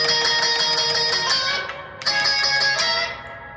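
Electric guitar plays the intro riff of a song, a steady run of bright, ringing chord stabs that stops briefly near the middle and then resumes with the same rhythm. No voices.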